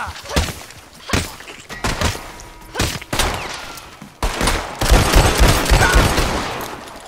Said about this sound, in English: there's a jackass shooting us